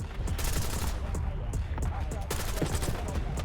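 Rapid gunfire from a Black Ops 6 match, with dual shotguns in play, crackling in dense, continuous bursts across the whole stretch at steady, fairly loud level, with faint voice fragments mixed in.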